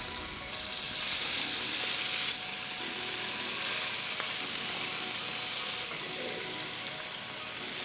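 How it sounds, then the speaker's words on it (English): Prawns sizzle and fry in hot oil in a wok for Assam prawns, a steady, loud hiss of searing with faint stirring underneath and no talking. "Heat up a wok, add some oil. All right, prawn goes in."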